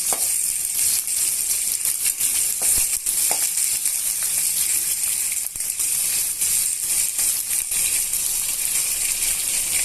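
Onions and green chillies frying in oil for lemon rice: a steady, bright sizzle with occasional soft crackles and the light clink of stirring, close and continuous with no talking.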